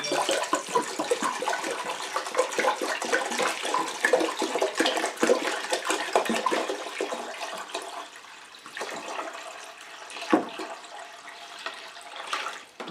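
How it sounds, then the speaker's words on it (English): One gallon of water pours and splashes steadily into a container close by, gurgling and rushing, tapering off with a few final splashes near the end. "we're going to add 1 gallon of water."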